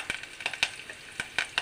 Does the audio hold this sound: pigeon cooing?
no